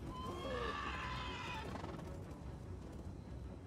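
Cavalry horses whinny in the Total War: Three Kingdoms video game, a clear rising-and-falling neigh up front over a low battle rumble, then fading into the steady background din.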